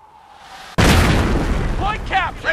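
A grenade blast in Company of Heroes, a single loud, close explosion cutting in sharply and rumbling on, with shouting voices and combat noise beneath it.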